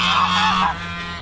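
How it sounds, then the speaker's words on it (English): A seagull calls once nearby, a loud harsh honking cry lasting under a second and then trailing off, outdoors in Rotorua. "There's always a seagull."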